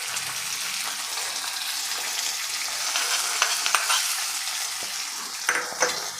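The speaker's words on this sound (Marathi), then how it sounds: "आता ही फोडणी आपल्याला ह्या दहीबुत्तीवर ओतून घ्यायची आहे" Hot oil tempering with chopped green chillies poured onto curd rice, a bright close sizzle that swells with crackling pops and spatters near the end, no voices.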